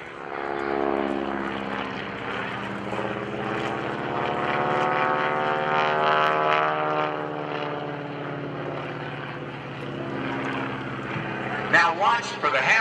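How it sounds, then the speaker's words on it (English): An open-cockpit aerobatic airplane tumbling at the 2011 Blue Angels Homecoming airshow, its propeller engine droning loudly with a steady, slowly wavering pitch, while a commentator talks over the public address. "As he tumbles the airplane called the Lynchavoc,"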